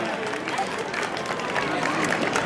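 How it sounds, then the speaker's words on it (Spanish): A crowd applauds and cheers steadily for girls' youth runners at an urban mile race in Avilés, a dense wash of clapping heard from within the audience. "Aquí tenemos un aplauso para ellas"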